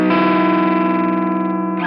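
An electric guitar on a bridge humbucker pickup, driven through a TC Electronic Booster+ into an amp, rings out a loud, sustained, crispy distorted chord for nearly two seconds.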